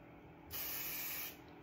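A single steady hiss of spray on a wig, about three-quarters of a second long, close and fairly soft against a quiet room.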